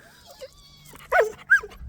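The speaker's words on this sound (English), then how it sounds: "This is my dog, Jessi." A dog whimpers and yips in a few short, high whines, close by, with faint low background noise between them.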